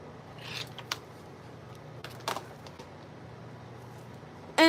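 Wire is snipped in a few quick, faint clicks and snaps while beading a kandi bag, with soft handling noise between cuts and a sharp knock at the very end.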